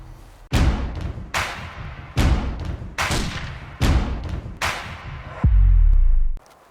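Five loud, sharp shotgun blasts fire at clay targets at a sporting clays range in steady succession about a second apart, each with a booming tail, followed by a heavy low thud.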